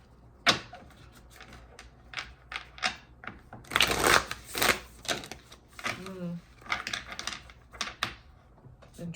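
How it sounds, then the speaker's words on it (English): Tarot cards being shuffled several times, giving a series of papery riffles and soft slaps of varying loudness with faint background noise. "I'm going to shuffle"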